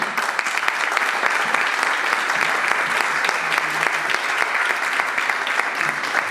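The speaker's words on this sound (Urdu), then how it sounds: "آپ سب سے درخواست ہے کہ تالیاں بجتی رہیں" Steady, dense applause from a large audience at a Christian Christmas gathering, sustained and even throughout with no pauses.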